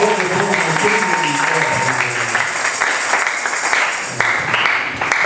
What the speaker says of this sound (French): Applaudissez pour le pasteur vivant.